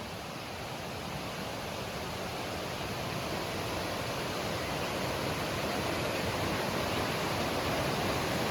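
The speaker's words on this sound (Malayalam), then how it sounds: "പുഴയുടെ ഒഴുക്ക്" A river flowing through forest in the Idukki hills, with a steady, even rush of water running throughout at a constant level and no voices over it.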